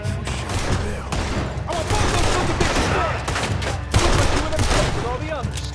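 Rapid bursts of gunfire crackle through a shootout in Red Dead Redemption 2, dense overlapping shots and booms filling the whole stretch with a few shouted voices mixed in.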